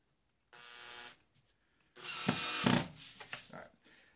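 A power drill countersinks a screw hole in wood: a short whirring burst, a pause, then a longer stop-start run that revs and tapers off, close and clear.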